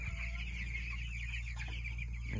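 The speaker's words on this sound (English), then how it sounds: "So we're at 99 meat birds." A flock of 99 meat chickens on fresh grass clucking continuously at moderate distance, soft overlapping calls over a steady low hum.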